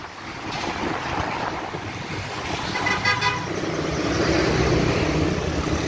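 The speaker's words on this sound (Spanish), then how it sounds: "sí se están viniendo los autos" Cars passing along a city avenue in Zona 8, Guatemala City, with a continuous roar of traffic that swells gradually and a short horn toot partway through, no voices.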